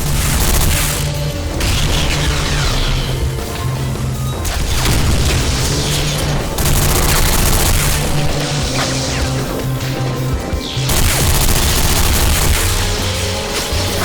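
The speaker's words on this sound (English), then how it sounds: "Blast imminent." Repeated heavy explosion blasts boom loudly through a sci-fi space setting, layered with rumbling debris and dense low-end roar that stays thick and continuous across the whole stretch, with fresh impacts arriving every few seconds.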